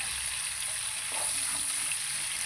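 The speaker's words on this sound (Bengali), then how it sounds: "পেঁয়াজটা ভালো করে ভেজে নেব" Chopped onions frying in a pan: a steady, dense sizzle hiss that holds evenly throughout, close and moderately loud, with a faint stir partway, no talk.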